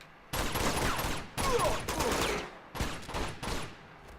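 Gunfire from the video game Uncharted 2 rings out in several dense, loud bursts separated by short gaps, rattling on steadily with no clear talk over it.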